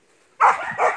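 A hunting dog in the woods near a creek gives two loud, close barks in quick succession after near silence.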